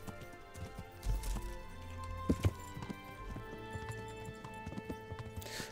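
Horse hooves clip-clop steadily in Kingdom Come: Deliverance, close and moderately loud, with a brief whinny-like burst midway over a soft musical game background.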